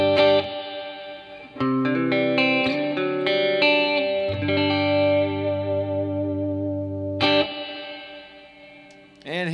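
Electric guitar through a Peavey Bandit 112 amp with the spring reverb at 12 o'clock, a run of picked notes and chords sustaining into a long, washy reverb decay, followed by a sharp chord hit.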